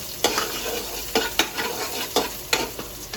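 Garlic sizzling in a hot pan as the base for chicken feet adobo, a steady soft frying hiss with several sharp stirring scrapes at irregular intervals.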